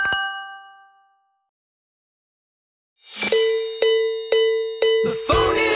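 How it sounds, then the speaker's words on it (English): A phone ringtone made of bright chiming dings: one bell tone decays into silence, then a rapid series of five or six clanging rings repeats loudly and close. "The phone is ringing, can't you hear it?"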